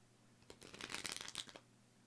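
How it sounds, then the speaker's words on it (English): A short riffle of playing cards being shuffled, a quick flurry of crisp flapping clicks lasting about a second, close and quiet. "I keep shuffling until I get that perfect shuffle"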